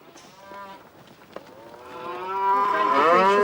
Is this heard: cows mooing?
yes